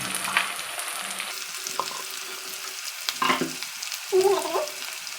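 Crushed ginger and garlic fry in a pan for a pomfret fish curry, giving a soft steady sizzle broken by a few clinks and scraping stirs nearby.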